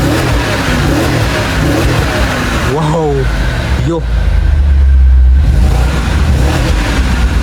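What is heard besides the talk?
6.4 liter car engine revving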